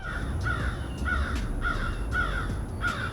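Repeated crow caws, six harsh calls at a steady rhythm over a constant low rumble of background noise, heard during a ride on a Lectric XP 3.0 step-through e-bike.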